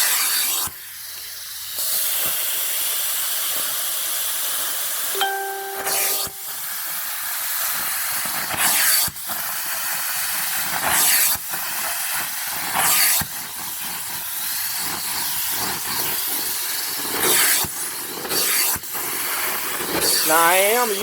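Carpet cleaning spot tool spraying rinse onto carpet spots to lift ink, a loud continuous close hiss of spray and suction with brief stops and surges, plus a short tonal beep near the middle.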